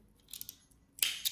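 Scissors snip through crochet yarn while finishing a handmade crochet bag, giving two or three quick, crisp close-up snips with short pauses between them and no talking.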